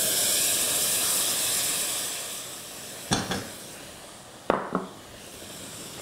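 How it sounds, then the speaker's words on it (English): Fermented yoghurt heats in a pot with a steady, loud steamy hiss, broken twice by sharp metallic knocks and brief scraping stirs. "we're going to boil our fermented yoghurt"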